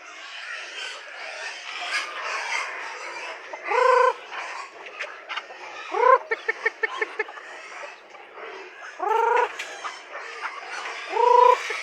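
Backyard chickens being fed cluck steadily nearby while a rooster crows loudly several times, including a quick run of sharp clucks between the crows.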